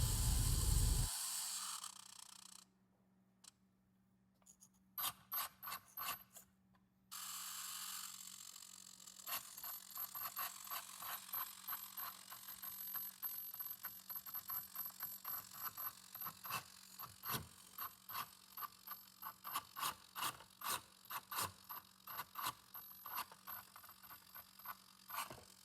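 Small electric winch on an RC truck slowly reeling in slack line, giving a quiet, rapid ratcheting and clicking that comes in uneven bursts over a low steady hum, with short pauses between runs.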